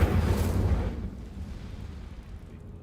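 A fire spell cast in Hogwarts Legacy bursts out as a loud, deep whoosh and boom that rolls off into a fading rumble, with no talking.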